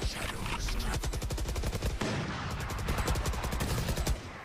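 Rapid automatic gunfire from a Valorant pro match at VCT Masters Reykjavík 2022 on Ascent, a sustained stream of close, loud shots spamming an opponent, with a brief break midway before the firing resumes.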